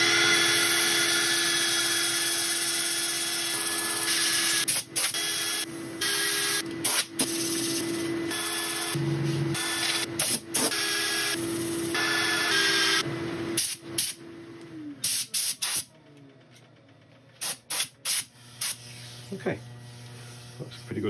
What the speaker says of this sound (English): I'll set up for sanding. I'll let you watch a bit of it